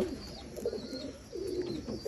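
A rare Dumchir pigeon, a breed with an unusual split tail, coos in soft low rolling phrases, two close throaty calls over faint background hiss.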